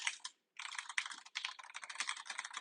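Rapid typing on a computer keyboard, close and fairly quiet, with dense bursts of clicking keys separated by a couple of brief pauses.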